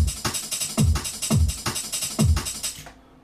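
Drum and bass drum loop with a velocity-edited hi-hat pattern, showing crisp hats ticking steadily over a few low kick hits in a short repeating bar, alone at moderate level and cut off at the end.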